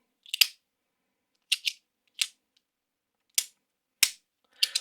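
A gravity clicker fidget toy snaps with sharp, crisp clicks in short bursts and singles, about eight clicks spread irregularly across the stretch, close and clear against silence.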